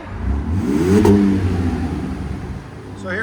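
A 2025 RAM RHO with a 3.0L twin-turbo inline-six and Magnaflow SPEQ cat-back exhaust revs up to a loud peak and then settles into a steady, droning idle-rev, close by, with people talking over it.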